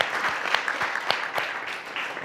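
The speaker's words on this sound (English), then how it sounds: "I feel like this deserves a round of applause." Conference audience at a product roadmap presentation gives a short, steady round of applause, moderately loud, with individual claps standing out.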